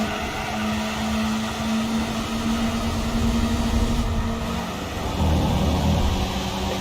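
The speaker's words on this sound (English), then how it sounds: "this is actually like hearing the 2TG alive again. With the with how they've done the audio on this car." A Toyota 2T-G car engine in Gran Turismo 4 drones steadily at high revs with a sustained tonal whine, shifting pitch partway through, loud and continuous, during a race lap.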